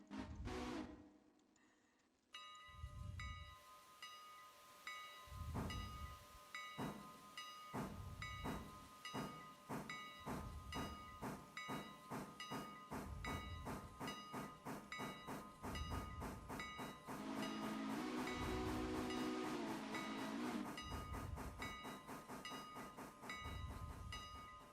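Steam locomotive in the Railroader video game, a steady run of rhythmic chuffs and rolling clatter that builds in speed under a constant hiss, with a brief whistle-like tone, fairly near and even.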